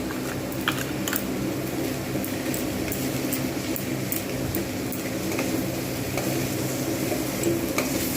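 Cauliflower simmers and fries in poppy seed paste with added water, a steady bubbling sizzle under repeated spatula stirs and clicks against the pan, close and continuous with no speech.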